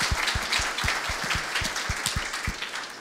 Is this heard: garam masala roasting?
no